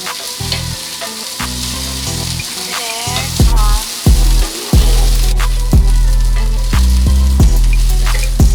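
Corn and onion sizzle loudly in a hot pan, with a bright, close, continuous hiss. Several sharp knocks and scrapes mark the pan being tossed, and the steady pattern returns after each one.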